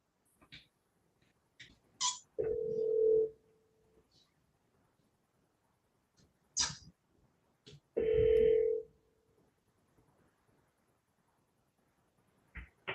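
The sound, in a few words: outgoing telephone call ringing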